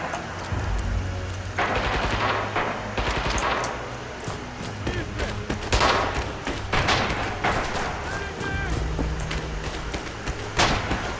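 Gunfire in the video game Red Orchestra 2: Heroes of Stalingrad: repeated sharp rifle and machine-gun shots with heavy thumps, loud and continuous, mixed with battlefield rumble.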